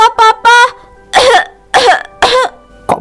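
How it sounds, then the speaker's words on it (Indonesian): A child coughs in about six short, harsh bursts, close and loud, with a throat-clearing quality and brief pauses between them; no one speaks. "Kok bisa makan kurma bikin batuk-batuk ya?"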